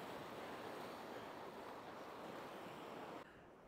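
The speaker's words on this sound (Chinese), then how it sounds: "现在就可以欣赏一下西班牙的大海了" Sea waves wash along the Spanish coast beside a seaside villa, a broad steady roar of surf mixed with wind buffeting the microphone, easing slightly near the end.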